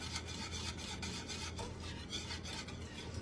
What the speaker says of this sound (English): you just gently, you whisk it right back into your pie